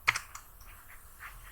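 A few quick, light keystrokes on a computer keyboard: one sharper click at the start, then softer taps spread over a second and a half, close up and with no talking.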